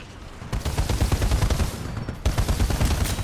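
Rapid bursts of automatic gunfire from the Flatline rifle in Apex Legends, dense and loud, with a brief pause before the firing resumes.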